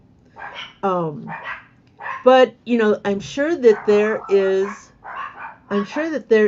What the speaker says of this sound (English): Sorry about the dogs, they're barking at somebody outside.